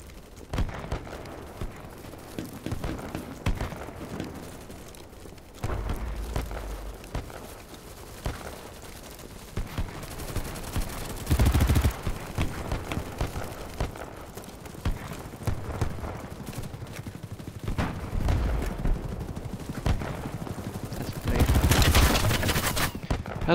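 Gunfire from the video game BattleBit Remastered during a full match, repeated shots and rapid bursts popping at mid distance, with louder volleys flaring up twice amid a busy battlefield bed.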